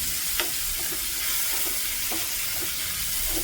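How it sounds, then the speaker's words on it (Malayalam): Onions and spices frying in a pan, with a steady sizzling hiss throughout and soft intermittent scrapes of stirring. "നല്ലതുപോലെ മിക്സ് ചെയ്ത് കൊടുക്കാം."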